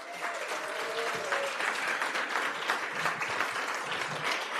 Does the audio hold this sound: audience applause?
yes